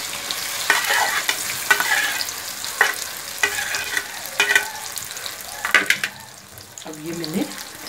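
Carom seeds and spices fry in a pan, with a steady close sizzle broken by stirring scrapes and knocks. A short clatter comes near the end.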